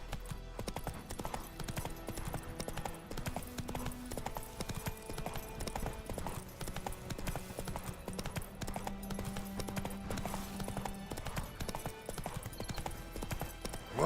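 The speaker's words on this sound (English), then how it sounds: "Whoa there, Roach." Hooves of the horse Roach trot steadily on ground in The Witcher 3 game, a continuous clip-clop rhythm over in-game music and ambience, with a brief whinny.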